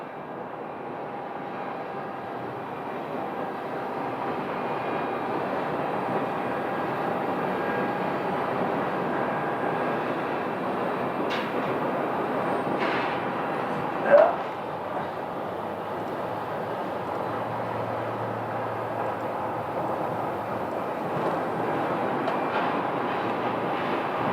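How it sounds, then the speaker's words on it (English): A Boeing 777-200 airliner at Phoenix Sky Harbor airport gives a steady, broad jet roar that holds at an even loudness throughout, with a brief sharp click near the middle. "And this will be a Boeing 777-200."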